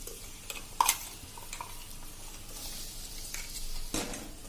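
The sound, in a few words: spinach puree added to pan with spiced rice and corn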